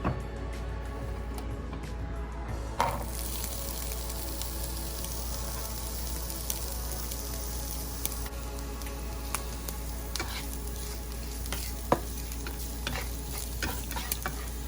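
Onions frying in about a teaspoon of oil, giving a constant close, loud sizzle with occasional stirring clicks, alone without talk.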